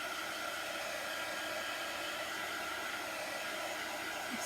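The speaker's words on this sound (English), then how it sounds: "I'm going to dry this a little bit with my heat tool." A heat tool blows continuously to dry chalk paint on a Halloween sign, a steady, even airy roar held close and unbroken throughout.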